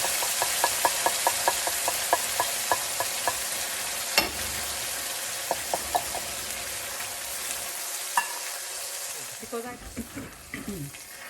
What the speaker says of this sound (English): I'm going to simmer my tomato till you start seeing the oil is coming out